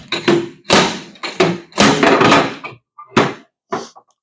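A metal cover key repeatedly banged upwards against a stuck manhole or access cover to free it, giving a series of loud, irregular thunks and knocks, about eight strikes with short pauses between.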